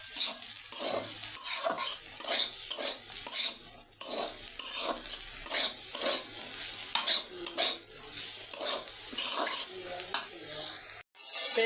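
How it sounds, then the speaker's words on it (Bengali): Spices fried and stirred in a pan after frying fish, heard as repeated scraping strokes of a utensil against the pan over a soft sizzle, close and rhythmic, with a brief pause near the end. "আমি এদিকে মশলা কষাচ্ছি"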